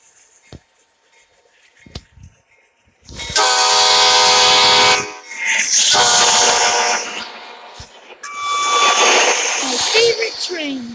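A steam train passes close by while railfanning, its loud rumble and clatter broken by long blasts of the horn in two or three bursts, with people talking nearby.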